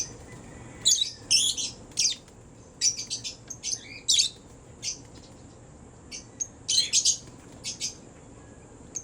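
Lovebirds calling in a breeding colony of hens and cocks, shrill chirps and squawky bursts coming in scattered clusters, fairly close over a low steady background hum, with no speech.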